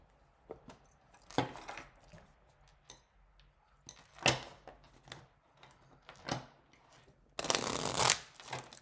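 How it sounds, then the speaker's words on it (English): Small PVC pocket tarot deck with gold foil edges being shuffled by hand: several quick riffling, slapping bursts spaced through the span, building to a dense, loud rustling flurry near the end, with no talk. "And then I'm going to bring it down and show you the shuffle."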